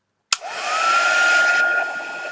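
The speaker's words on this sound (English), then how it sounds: "I am going to dry that bit because I need to repair over the black heat gun." A heat gun drying paint switches on with a sharp click, then blows a steady loud whirring, airy hiss that holds close by, with no talking.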